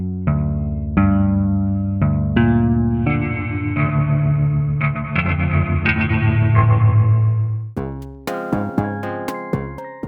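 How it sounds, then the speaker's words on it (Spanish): Twangy rockabilly electric guitar run through slap delay, tremolo and strong spring reverb, playing loud plucked notes and chords alone, ending in a series of staccato hits. "le agregué un slap delay, un trémolo y un spring reverb bastante fuerte, emulando un sonido de guitarra rockabilly o twangy"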